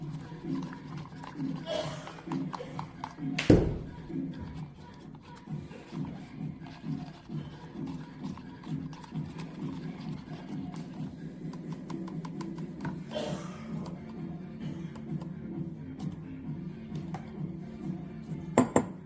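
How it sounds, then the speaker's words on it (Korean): Syrup being stirred for a toffee nut latte, repeated close scraping and clinking of a spoon against a cup or jug in a steady rhythm, with a louder knock early on. "이렇게 안 섞이는 게 없도록 골고루 저어주세요."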